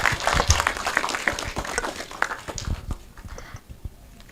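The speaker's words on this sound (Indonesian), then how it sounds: "Mungkin bisa tepuk tangan dulu" An audience at a film discussion claps after the talk, a moderately loud patter of hands that thins out and fades over a few seconds.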